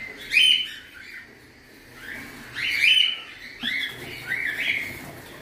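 Cockatiels at a breeding nest with their chicks give a series of bright chirps and short calls, coming in three or four clustered bursts close by with quieter gaps between them.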